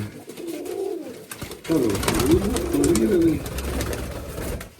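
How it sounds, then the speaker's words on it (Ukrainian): A pigeon coos in low, throaty rolling calls close by, a short coo followed by a longer run of burbling cooing, with faint background noise. "Он де голуб."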